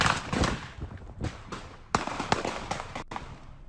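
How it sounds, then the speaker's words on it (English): Gunshots fired during a rapper's Instagram live stream, a rapid string of sharp cracks and pops, some in quick bursts, loud against a noisy outdoor background. "gunshots start going off"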